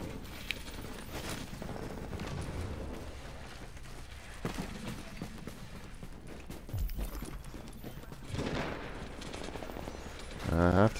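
Steady rapid gunfire and action noise from Tom Clancy's The Division, filling the background throughout with dense shots and mechanical clatter, growing louder toward the end.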